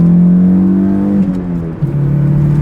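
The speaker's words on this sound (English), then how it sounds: "It's got an aftermarket exhaust, I believe, as most of these do." Close, loud engine of a 1987 Toyota MR2 AW11 with an aftermarket exhaust, holding a steady drone, then briefly dipping and shifting pitch twice as the revs change, with no talk.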